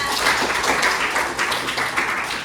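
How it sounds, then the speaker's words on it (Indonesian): Students in a vocational high school classroom clap their hands together in a steady, dense burst of applause that fills the room, with no talking over it. "Dan tepuk tangan."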